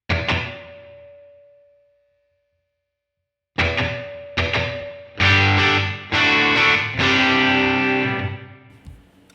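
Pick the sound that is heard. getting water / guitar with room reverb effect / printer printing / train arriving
guitar with room reverb effect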